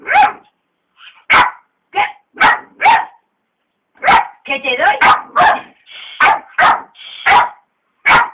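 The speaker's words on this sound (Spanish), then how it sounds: "¡No me ladres! ¡No!" A dog barks repeatedly, loud and close, in short sharp bursts, while a person talks between and over the barks.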